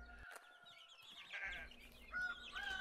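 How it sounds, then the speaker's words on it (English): Baby chicks peep and cluck softly on a farm, several thin chirps and short calls scattered close by over low background noise, with no talking. "not actual children, but my baby chicks"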